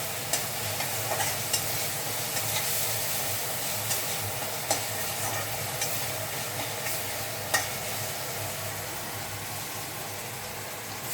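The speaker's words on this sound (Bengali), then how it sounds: "মশলাটা মনে হচ্ছে হয়ে এসেছে, আর একটু নেড়ে নিই" Spice masala frying in oil in a pan, stirred before pumpkin is added: a constant soft sizzle with scattered scraping spoon strokes at irregular intervals, fairly close and moderate in volume.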